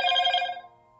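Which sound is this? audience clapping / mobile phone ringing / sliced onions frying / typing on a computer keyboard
mobile phone ringing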